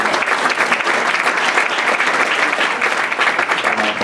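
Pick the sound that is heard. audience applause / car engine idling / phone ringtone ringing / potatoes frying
audience applause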